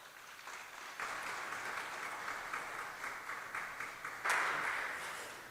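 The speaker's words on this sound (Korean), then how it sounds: "다시 한번 뜨거운 박수 한번 해주시겠습니다." Audience applause at a church denomination's vice-moderator candidate policy debate, a sustained broadband clatter of many hands that builds at the start and swells louder near the end.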